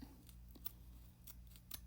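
Scissors snip through the hair of a lace front wig while trimming the ear tabs, giving several quiet, close, crisp cuts at irregular intervals over faint background hum.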